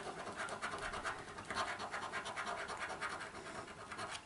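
A coin or fingernail scratches a lottery scratchcard, a close, continuous rasping scrape in short repeated strokes that runs unbroken for several seconds with no voices.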